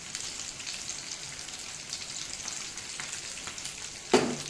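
Prawns fry in a pan with a faint, steady sizzle, then a sharp clatter sounds near the end.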